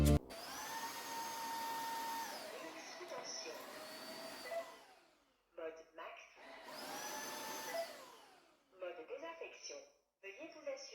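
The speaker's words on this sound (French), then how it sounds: "C'est vraiment franchement formidable de pouvoir aspirer et laver vos sols en même temps." A wet-and-dry vacuum cleaner that vacuums and washes floors at once whirs loudly in two long running bursts, each winding down, with a synthetic voice prompt and short mechanical sounds in between.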